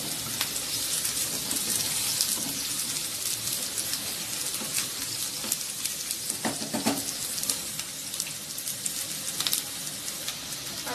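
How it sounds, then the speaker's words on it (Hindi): Chopped garlic frying with browned onions in a hot pan for a chicken curry, a continuous close sizzle with crackling pops and occasional stirring scrapes. "अब इसमें गार्लिक ऐड करूँगी 1 टेबलस्पून और फिर से इसे फ्राई करूँगी 1 मिनट तक"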